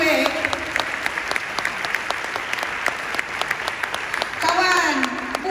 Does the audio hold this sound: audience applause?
yes